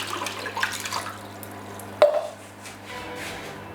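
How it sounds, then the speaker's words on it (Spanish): A litre of tap water from the kitchen faucet is poured into a pot, a soft running and splashing wash with a sharp clink midway, followed by gentle dripping and settling water. "Aquí tenemos otro litro de agua, también del grifo."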